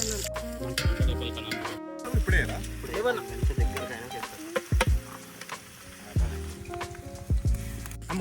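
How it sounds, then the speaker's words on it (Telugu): Chopped onion and green chili tempering sizzling and crackling in hot oil in a village farm cooking pot, a steady frying hiss broken by stirring scrapes and clanks, with talk at times. "దాంట్లో ఆయిల్ వేసేసి ఇంకా ఆనియన్ మిర్చి అయితే వేసి తాలింపు అయితే వేసినాము."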